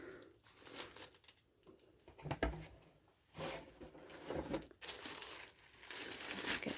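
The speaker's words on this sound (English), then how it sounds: "And then her box is wrapped up in tissue paper." Tissue paper around a doll box crinkles and tears in close, uneven bursts of rustling, loud at moments and quieter between, with no talking.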